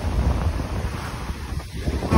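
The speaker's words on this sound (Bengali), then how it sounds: "সমুদ্রের তীরে বসে তার গর্জন শোনা সত্যি এক অসাধারণ অনুভূতি।" Sea waves break on Mandarmani beach, a broad, steady roar of surf mixed with heavy wind buffeting the microphone, loud and continuous with no voices.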